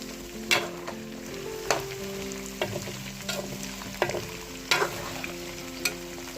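Chicken pieces frying in a karahi with steady sizzle and crackle, while a spoon scrapes and stirs in occasional sharp clinks against the metal; continuous, moderate and close, no talk.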